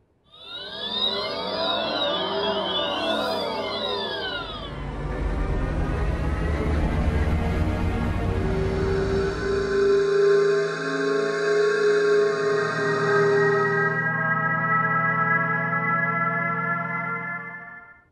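Acoustic pedestrian alert sounds from electric cars, played one after another: ringing synthetic tones, then a low rumbling whir, then sustained electronic drones and hums, steady and fairly loud with no talking.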